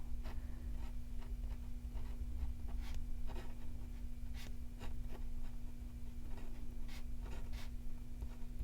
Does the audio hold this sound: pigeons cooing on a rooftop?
no